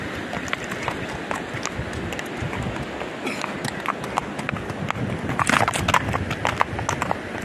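Hooves of a black horse clip-clop steadily at a brisk pace outdoors, with a louder flurry of hoofbeats toward the end and faint voices in the background.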